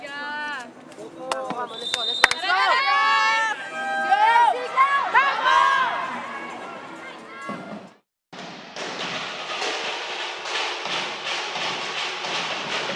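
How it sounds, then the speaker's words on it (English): Volleyball teammates cheering on a player during a PVL Invitational Conference match, excited voices and shouts bursting out over arena noise, then a dense sustained roar of crowd sound after a brief cutoff. "we hear even her teammates just cheering Amiga on"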